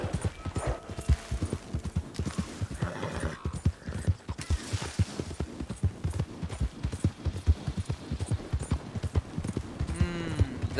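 Horse hooves clip-clop in a fast, steady galloping rhythm in the Red Dead Redemption 2 video game, close and prominent throughout, with a brief whinny rising near the end.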